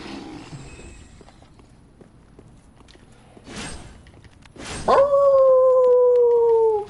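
Dogs in the video game Dark Souls 3 give a drawn-out howl, one long wavering cry that rises out of quieter game noise, a couple of heavy thumps and footfalls just before it, loud and close.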